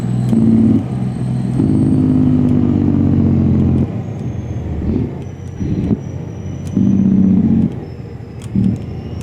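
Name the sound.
truck being driven and parked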